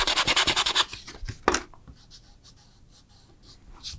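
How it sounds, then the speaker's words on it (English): Rough sandpaper scrubs a leather surface during a filler repair, with quick rhythmic rasping strokes up close at first, then a sharp scrape and fainter, scattered rubbing. "Tried a little bit of a rougher sandpaper."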